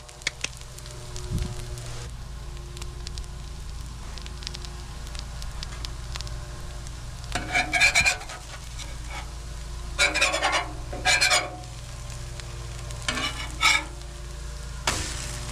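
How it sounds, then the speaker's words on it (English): Eggs frying on a Blackstone griddle, a low steady sizzle running throughout with a few louder bursts of scraping and spatula clatter; no talking. "I flipped over the eggs and there was nothing stuck."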